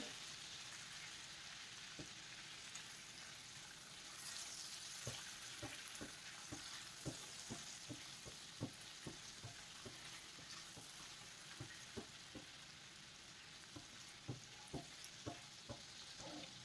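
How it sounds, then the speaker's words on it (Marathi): Paneer frying in oil over a low gas flame for a dhaba-style paneer butter masala, a steady soft sizzle with frequent small pops and crackles throughout, no talking. "स्लो गॅसवर तळायचं याला."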